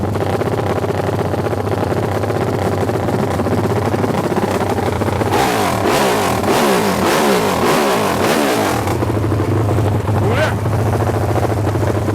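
Honda Wave 100 motorcycle with a Sonic engine and swapped CBR cylinder head, revved hard: a loud, buzzing engine surges up and down in pitch through a burst of throttle, with people talking over it.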